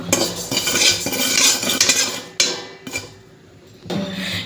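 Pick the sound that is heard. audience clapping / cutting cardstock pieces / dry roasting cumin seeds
dry roasting cumin seeds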